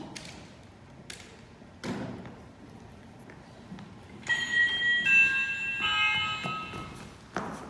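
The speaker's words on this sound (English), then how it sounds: "That's the doorbell, dear, not the telephone." A doorbell chimes for a few seconds with bright ringing tones, preceded and followed by scattered knocks and thuds in a quiet room, during a high school stage play.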